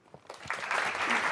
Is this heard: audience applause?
yes